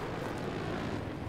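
A helicopter in the video game Battlefield 3 roars as a short, dense, steady rotor-and-engine drone, loud and close, with no speech.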